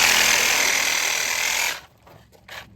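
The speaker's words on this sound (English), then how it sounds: "And then, it is time to cut off the head with a sawzall." Reciprocating saw cutting off a sheep's head during butchering, a loud buzzing rasp that runs for under two seconds, then stops, leaving brief softer handling noises.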